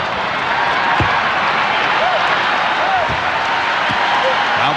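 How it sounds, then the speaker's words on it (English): Steady roar of a basketball arena crowd backing the Phoenix Suns against the Chicago Bulls in a 1993 NBA game, loud and continuous, with a few sharp bounces and thuds cutting through. "Now the crowd trying to get the Suns into it early"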